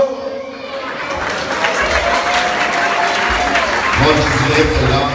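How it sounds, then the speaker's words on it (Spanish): Guests at a quinceañera party applaud and cheer the birthday girl: dense, loud clapping with scattered shouts fills the room, layered over thumping low party music and crowd chatter. "vamos a mandar un fuerte aplauso"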